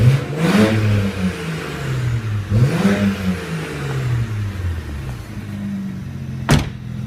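A warm BMW 335i M Sport manual idles close by, its exhaust rising in two clear revs that sweep up and settle back, followed by a steady burble and a short sharp knock near the end.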